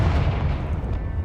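Confringo fire spell exploding in Hogwarts Legacy, a dense, loud burst of booming rumble lasting about a second with no pause.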